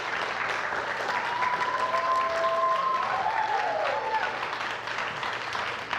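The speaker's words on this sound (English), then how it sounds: "indeed, another round of applause." Applause from the audience at a junior high quiz bowl competition, a steady wash of clapping lasting several seconds at moderate distance, with no talk over it.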